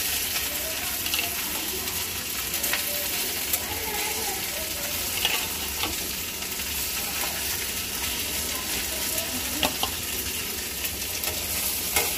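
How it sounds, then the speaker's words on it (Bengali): Fish and chicken sauté in a home kitchen pan with a constant close sizzle, broken by occasional scrapes and clinks of stirring throughout. "সুন্দর কষানো হতেছে আমার মাছটা এই মুরগিটা"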